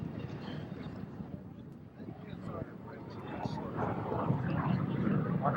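A military jet flies a simulated flame-out landing pattern at an air show, a broad rumbling roar that steadily builds, mixed with wind noise and loud announcer talk over the top.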